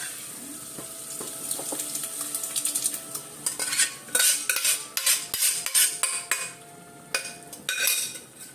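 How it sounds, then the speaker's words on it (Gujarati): Lentils for dal fry go into a metal cooking pot amid repeated close spoon clinks and scrapes, sparse at first and then quicker, with no speech. "હવે હું દાળ નાખી દઈશ"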